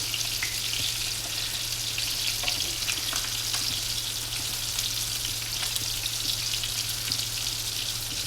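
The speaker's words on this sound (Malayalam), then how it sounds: "നമ്മളിവിടെ മീൻ പൊരിക്കുമ്പോൾ എപ്പോഴും പച്ചമാങ്ങ കിട്ടുന്ന സീസൺ ആകുമ്പോൾ പച്ചമാങ്ങ നമ്മൾ പൊരിക്കാറുണ്ട്" Steady, close hiss and crackle of green mango pieces frying in oil, unbroken throughout, over a low constant hum.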